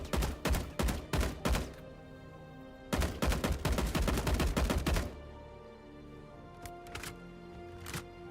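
Hip-fired gunshots in a video game: loud rapid volleys in two long bursts, then a few scattered single shots over quieter background hum.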